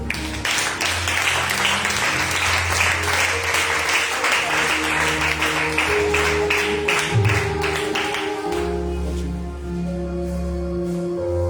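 A church congregation claps and cheers steadily throughout, sustained loud applause with voices mixed in and music playing underneath.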